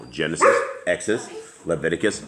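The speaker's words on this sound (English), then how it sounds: "my apologies for my dogs. They're all crazy," Several dogs bark and yip in bursts beneath a man reading aloud, the barking mixed in with his steady speech.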